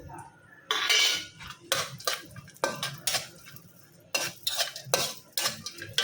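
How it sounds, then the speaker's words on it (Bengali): Food is stirred in ghee in a pan, with metal utensils scraping and clinking against it in repeated bursts over a faint sizzle, close by and without talk. "এখানে ঘিটা দিয়ে এখন এগুলো একটু বাইজা নিব"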